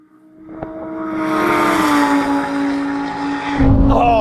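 A Lamborghini engine accelerates hard in a half-mile roll race from 30 in second gear, its loud tonal whine climbing and holding close by, with a brief dip and then a burst of heavy roar near the end.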